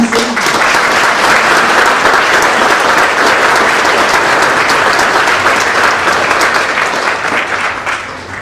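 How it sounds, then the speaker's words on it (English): Sustained, loud applause from a large audience at a nursing pinning ceremony, steady clapping filling the room for several seconds before beginning to taper off at the end. "let's give Avery Rondeau a round of applause on her rising."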